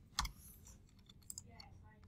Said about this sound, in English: I can hear clicking.